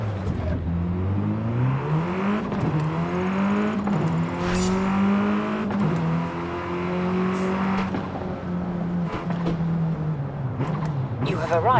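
A Lancer Evo rally car in Forza Horizon 5, its engine droning and rising and falling in pitch as it revs through gears on a rally route, steady and close, with someone talking over it.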